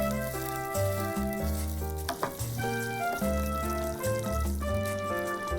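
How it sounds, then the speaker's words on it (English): Mapo eggplant with Chinese chili bean sauce and seasonings sizzles in a pot while being stirred, a steady close frying hiss under loud melodic background music. "Heat the eggplant while stirring."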